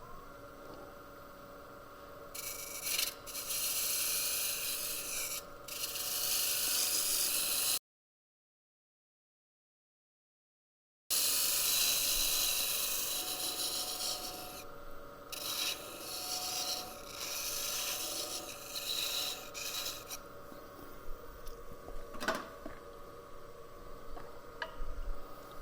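Lathe tool cutting the inside of a wooden piece during inside-out turning, a steady close scraping rasp with light, uneven strokes and one short break in the middle.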